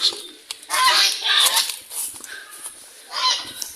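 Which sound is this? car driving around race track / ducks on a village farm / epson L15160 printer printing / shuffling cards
ducks on a village farm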